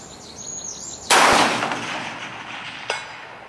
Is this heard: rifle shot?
yes